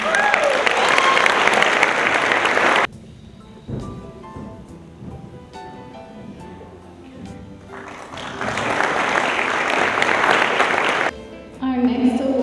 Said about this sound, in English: please give a round of applause to Mariana Ramirez.